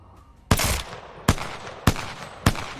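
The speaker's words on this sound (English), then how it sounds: "Hip firing with the pistol is quite a challenge, especially if you're trying to go for headshots." Four single pistol shots fired from the hip in Apex Legends, sharp and loud at a slow irregular pace, each followed by a short ringing decay, with no talking.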